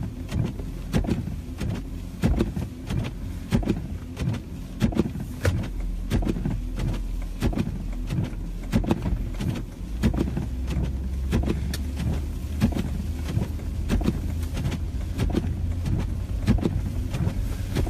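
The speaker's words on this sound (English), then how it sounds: "I am in a 4-wheel drive Toyota Sequoia, so I feel safe, but going slow" A 4-wheel drive Toyota Sequoia rolls slowly along quiet roads, its low engine hum and cabin rumble steady and close, broken by regular soft thumps and ticks as it travels.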